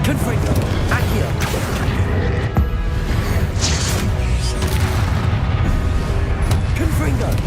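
Confringo blasting curse in Hogwarts Legacy: a loud, sustained barrage of booming explosions and crashing impacts with dense low rumble throughout, a person talking over the din.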